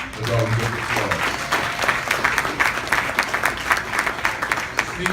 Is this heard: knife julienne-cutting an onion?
no